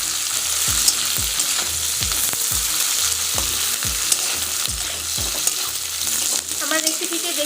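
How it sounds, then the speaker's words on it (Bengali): Onions sizzle steadily in hot oil with repeated rhythmic stirring scrapes of a spoon in the pan, close and continuous with no talking. "পেঁয়াজগুলি লাল লাল করে ভেজে নিব"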